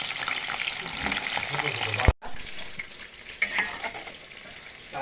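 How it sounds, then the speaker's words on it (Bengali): Potatoes fry in oil with a dense, even sizzle, broken by a sharp knock and a brief dropout, after which the frying continues more quietly with some splashing. "ওই তেলে আলুগুলো ভেজে নেবো।"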